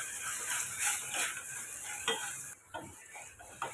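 Salted ingredients sautéing in a pan for ghee rice, a steady close sizzle broken by brisk stirring scrapes and a few utensil clinks.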